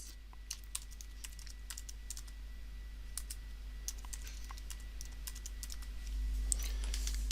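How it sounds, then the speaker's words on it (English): Clicky keystrokes on a computer keyboard as a password is typed twice, bursts of quick taps with short pauses between, close and crisp over a low steady hum. "Next we just need to type in the password and confirm the password."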